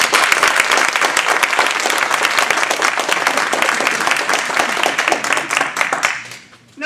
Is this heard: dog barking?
no